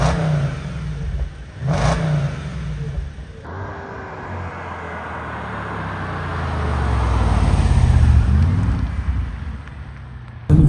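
An Audi S5 coupé pulls away on a drive, its engine note swelling steadily into a loud, sustained acceleration that peaks near the end, with road and wind noise underneath and a brief thump early on.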